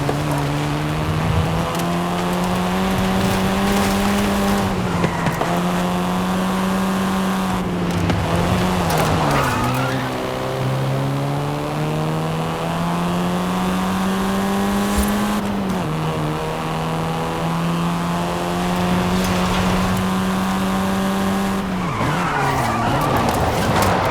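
A Volkswagen Golf driven in Forza Horizon 5 through Mexico: a loud, steady engine drone that rises through the gears and drops at each shift. Tyre skids and squeals cut in now and then, with no voices over it.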